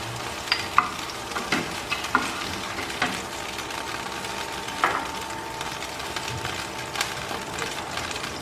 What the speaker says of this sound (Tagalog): Ayun, gigisa na po natin siya dito sa bawang niya.